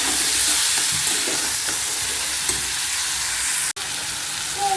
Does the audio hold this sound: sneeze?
no